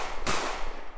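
A single sharp gunshot from an Unreal Engine 4 heist game, one loud broadband crack with a short decaying tail, heard alone with no talking.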